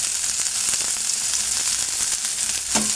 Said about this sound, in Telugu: క్యాప్సికమ్, పచ్చిమిర్చి వేసుకొని ఫ్రై అనేది చేసుకోవాలి ఫ్రెండ్స్